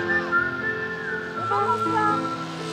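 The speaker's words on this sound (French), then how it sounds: "J'ai trouvé cette idée de sifflet." A single whistler carries a bright, cheerful tune from the soundtrack of Jean-Jacques Annaud's football film Coup de Tête, sustained melodic notes over soft orchestral backing, clear and upfront with no talk.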